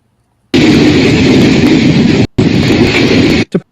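A coal train rolling on rails bursts in loudly after a brief silence, a dense, close rumbling roar that briefly drops out, resumes, then cuts off with a short final thud.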